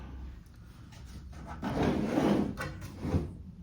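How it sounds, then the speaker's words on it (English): The wooden drawer of an industrial-style printer stand slides open or shut, a close rubbing, scraping glide building to a louder rasp, then a final knock, with no talk. "There's the drawer, full ream of paper in there,"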